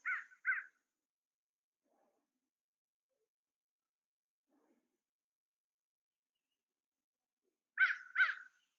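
A crow gives two quick caws, falls silent for several seconds, then caws twice more, clear against an otherwise quiet outdoor background.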